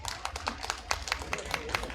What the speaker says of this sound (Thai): ครับผมเสียงปรบมือเลยครับ